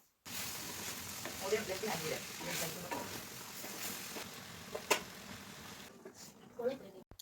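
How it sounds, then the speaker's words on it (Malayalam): Avial curry with tomatoes, ground paste, water and salt is stirred in a pan, a steady soft sizzle with occasional scraping knocks of the spoon, moderately quiet and continuous. "കുറച്ച് വെള്ളവും ഉപ്പും കൂടെ ചേർത്ത് ഒന്നും കൂടെ നന്നായിട്ട് ഇളക്കിയതിന് ശേഷം അടച്ചു വയ്ക്കാം"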